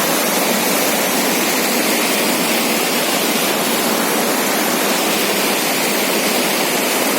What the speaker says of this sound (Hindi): हर तरफ से पानी आ रहा है और यही पानी जाके झीलम नदी में मिलता है